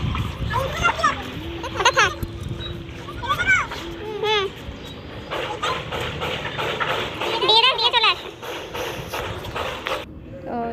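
Water splashes as a small boy hoses plants in a rooftop garden in Kolkata, irregular splatters and bursts with a voice chattering throughout.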